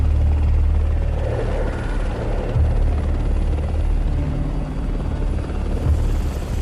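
A loud, continuous engine roar from an airliner diving toward a mountain ridge, a dense low rumble that holds steady throughout with no voices.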